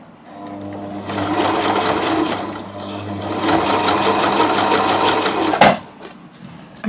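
Close by, a domestic sewing machine runs slowly through fabric on a bag seam in two stretches of steady, rhythmic needle chatter with a brief slowdown between them, ending in a sharp clunk as it stops.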